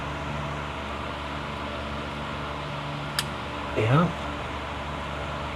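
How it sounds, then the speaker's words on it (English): A fan runs steadily in a garage with a wet floor from rain, a constant broadband whir filling the whole stretch, with a brief click and a short spoken word near the end. "please excuse the fan noise"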